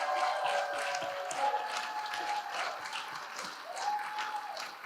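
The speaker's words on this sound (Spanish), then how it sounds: "un aplauso enorme para Simi Larrat" An audience applauds a Brazilian government official at a talk, moderate steady clapping heard from some distance with tones ringing through the room, continuing evenly for about five seconds.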